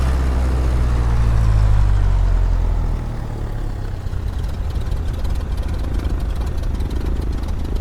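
A Cessna 152 propeller engine in a flight simulator idles steadily with a deep, even drone, slightly louder at first then settling to a constant hum.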